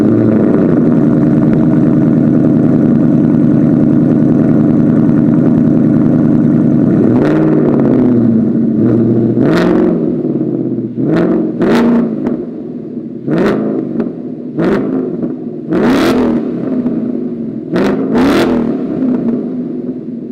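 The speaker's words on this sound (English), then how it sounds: "what the AWE Touring catback exhaust system actually sounds like" A Ford Mustang fitted with an AWE Touring catback exhaust holds a loud, steady rumble before a series of sharp throttle blips rise and fall in quick succession, close and without talk.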